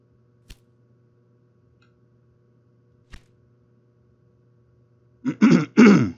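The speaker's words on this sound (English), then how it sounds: "I shouldn't be clearing my throat with a hot mic." Two short, sharp clicks sound over a quiet low hum, followed by a close, loud double throat clearing at the end.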